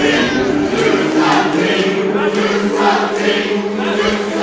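A wrestling crowd at a heavyweight championship match jeers and shouts at a wrestler walking to the ring, a continuous loud roar of many voices with rising and falling swells.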